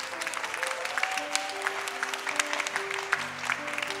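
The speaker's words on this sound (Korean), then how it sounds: "졸업생 가족 친지 여러분과 성도님들께서는 축하의 박수를 보내주시기 바랍니다." Church congregation at a Sunday service claps steadily for graduates of a Bible study course, a moderate, even patter with a sustained organ or keyboard tone running underneath.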